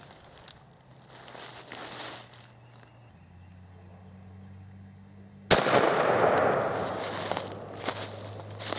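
A single sharp 20 gauge shotgun blast from a New England Firearms gun loaded with heavy number 6 shot, fired at a target 30 yards away outdoors; one loud crack follows a quiet stretch, then a lingering rumbling tail.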